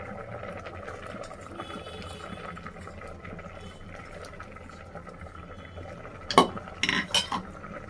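Tomatoes tipped into a pan of simmering broad bean and toor dal curry, low bubbling and utensil clinks throughout, then a few sharp metallic scrapes and knocks near the end as the pot is stirred.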